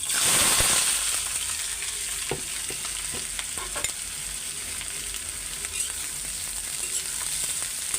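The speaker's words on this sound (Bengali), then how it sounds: "তেলও গরম হয়ে গেছে তো ভাজিটা বসায় দিই" Chopped bitter gourd with onion and green chili dropped into hot oil, giving a loud hissing burst that settles into a steady close-up sizzle, with occasional stirring clicks.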